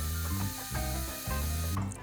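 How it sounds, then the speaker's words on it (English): A blender whirs through lemon juice and white wine vinegar while making shrimp remoulade, a steady mechanical grinding with rhythmic surges, close and alone. "Now stop the blender and add the Creole mustard"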